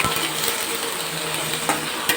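Onions frying in hot oil over a tempering of cumin, chana dal, urad dal and mustard seeds for an egg curry, with a steady close sizzle and occasional scrapes of stirring throughout.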